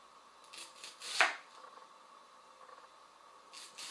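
A knife thinly slicing an onion on a board, a few quiet, crisp cuts in a short cluster with one sharper slice, then a pause and another faint cut at the end.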